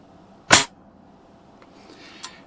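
A single sharp shot from a Daisy 120 pellet rifle, close and loud, followed by a faint quiet stretch with small distant taps.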